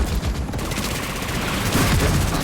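Mortar fire in a combat video game, a loud, continuous barrage of dense blasts and rumbling explosions that fills the whole moment, with no voices.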